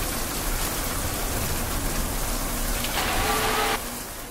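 Heavy rain pours down steadily and close, a dense hiss that swells in the last second before easing slightly, with a faint engine-like rumble underneath.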